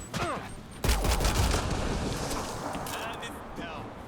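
Gunfire from the player's weapon in the video game Mass Effect Andromeda, a sustained burst of rapid shots over dense combat noise after a brief lead-in, with voices speaking through the mix.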